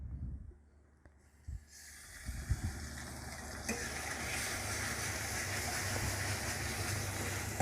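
Browned onions fry in a pan with ginger, garlic and chili paste for aloo do pyaza, starting quietly, then swelling after a couple of thumps into a loud, steady close sizzle.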